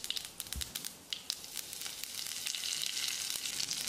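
Curry leaves hit hot oil in a pan alongside mustard seeds and urad dal, giving a few sharp pops and crackles at first before settling into a steady, close sizzle.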